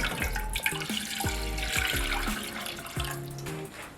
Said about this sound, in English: So I have my stove on medium and I'm going to add my water.